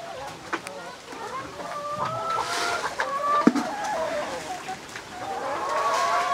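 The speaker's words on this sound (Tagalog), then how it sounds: "Ay, nilupad ang mga manok." Layer hens on a Cebu farm cluck and squawk in a busy flock, with wings flapping as they fly up, mixed with background noise and some talk nearby.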